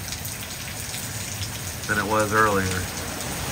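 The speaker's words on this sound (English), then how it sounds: "It's definitely raining more now" Heavy rain pours steadily during Hurricane Milton in Orlando, Florida, a dense, constant hiss that fills the whole stretch while a person speaks briefly over it near the end.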